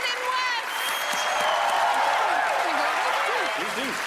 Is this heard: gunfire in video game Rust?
no